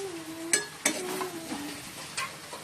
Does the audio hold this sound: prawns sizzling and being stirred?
yes